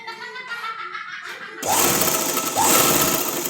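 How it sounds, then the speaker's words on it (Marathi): A sewing machine topstitches dress fabric, starting abruptly after a quieter moment into a loud, dense, continuous mechanical whirring that runs close up until the end. "परत आता वरनं दाब शिलाई द्यायची आहे त्याला पण"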